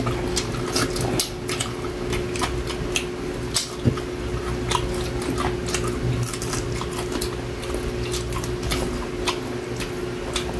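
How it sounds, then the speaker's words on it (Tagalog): Crunchy fried chicken wings being eaten up close, with steady crisp crackling and ticking bites throughout over a faint background hum. "Grabe kay Eli ang crunchy"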